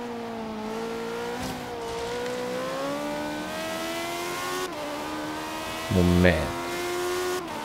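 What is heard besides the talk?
car engine revving while driving in Forza Horizon 3 video game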